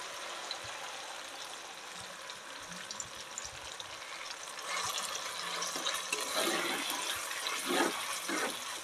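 Cracked eggs frying in a pan with tomato: a steady moderate sizzle and crackle close by that grows a bit louder and busier as the eggs go in, with no talk.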